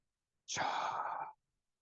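A single slow exhale lasts just under a second during a relaxation breathing exercise in a Kabbalah tai chi session, a soft breathy rush that starts abruptly and fades out, with silence around it.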